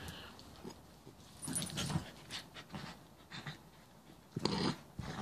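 Dogs wrestle playfully, with close breathy panting, snuffles and short scuffling bursts coming in uneven spurts at moderate loudness.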